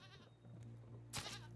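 A goat in the Raft survival game bleats after being struck with a spear, a short harmonic cry at moderate volume followed by a sharp noisy burst near the end.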